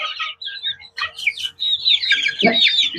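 A small flock of backyard chickens clucks and chirps in a quick run of overlapping calls, close by and fairly soft, with brief pauses between bursts.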